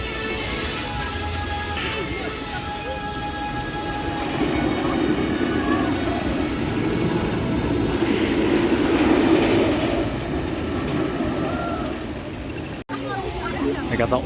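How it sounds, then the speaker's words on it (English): A roller coaster train rumbles along its track at Dorney Park, a sustained rolling roar that swells in the middle and then eases off, with people talking over it throughout. "What a tall roller coaster"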